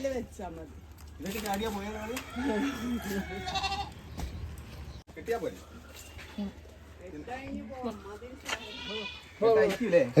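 Goats bleat loudly and repeatedly close by in Lakshadweep, mixed with people talking and shouting over them.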